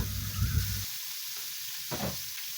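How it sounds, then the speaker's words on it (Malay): Oil sizzles and crackles in a pan as ground lemongrass and bird's eye chili fry, loud at first and then softer, with brief stirring noises. "Tinggalkan sedikit ya untuk tumis serai dengan cili padi yang dikisar tadi tu"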